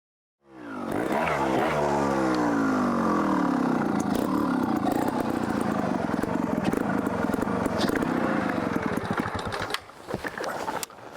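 A GasGas TXT GP 300 trials motorcycle runs continuously close by, its two-stroke engine revving and rising and falling in pitch as it rides, with a brief dip near the end and no talking.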